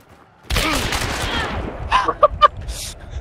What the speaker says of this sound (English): I count 6 shots